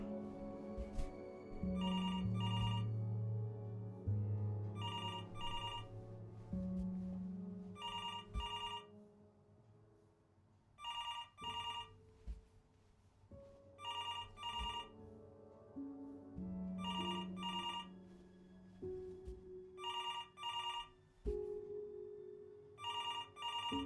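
In the video game Before Your Eyes, a telephone rings in repeated double bursts of bright electronic trills over a low, moody musical score, and the rings continue steadily to the end.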